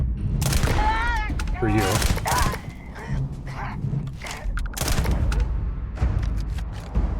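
Shotgun blasts in a video game, several loud bursts in quick succession mixed with other game noise, with a voice speaking briefly over the action.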